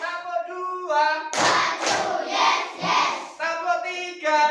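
A classroom of children claps in unison, a burst of dense hand claps between stretches of chanted, sung voices calling out the pattern.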